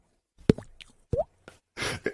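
A voice imitates water drips with a series of short wet plops and clicks, several separated pops followed by a breathy burst, close and fairly quiet with no other sounds.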